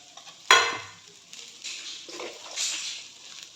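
Vegetable noodles with spring onion are tossed in a pan, with a sharp clank at the start and then soft scraping, rustling stirs that come and go.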